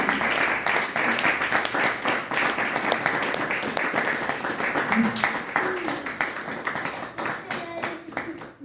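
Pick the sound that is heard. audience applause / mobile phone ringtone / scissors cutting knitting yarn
audience applause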